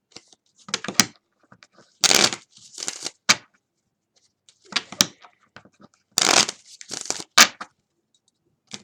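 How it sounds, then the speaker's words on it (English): A deck of oracle cards being shuffled by hand in several separate bursts of crisp riffling and flicking, close and fairly loud, with short quiet gaps between. "Another shuffle."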